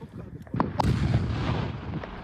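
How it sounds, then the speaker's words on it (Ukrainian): A small ammunition explosion goes off at a distance, a dull thump followed by a lingering rumble and scattered crackling debris. "Цей вибух зовсім невеликий"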